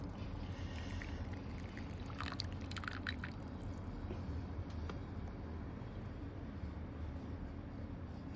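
Boiling water is poured over Phoenix Dancong Ya Shi Xiang oolong in a tea vessel and drains straight out through a hole, the first infusion discarded; a steady, continuous wash of pouring and running water lasts throughout.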